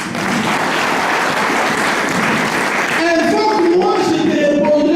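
A congregation claps and cheers in praise of the Lord, giving loud, dense applause close by that swells and then continues with voices rising over the clapping.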